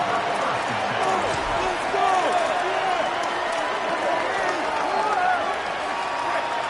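Stadium crowd in the College Football 27 video game roars steadily throughout a football game, a dense, loud wash of cheering and noise with no pauses.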